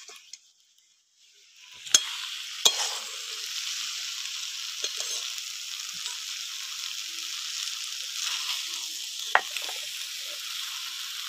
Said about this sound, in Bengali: চিনিটা দিয়ে এবার একটু নাড়াচাড়া দিয়ে নেব।